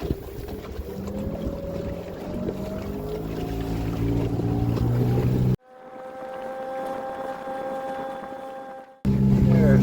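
The outboard motor of a tiny houseboat on the North Channel drones loud and steady as it revs up over the water, wind buffeting the microphone, with a brief muffled stretch where a clean, tonal hum takes over before the rough roar returns.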